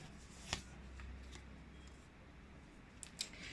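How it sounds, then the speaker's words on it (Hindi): A tarot card is shuffled and drawn from the deck: a few soft, isolated papery clicks and slides, one near the start and a quick pair near the end, over a faint quiet background. "एक और कार्ड लेंगे।"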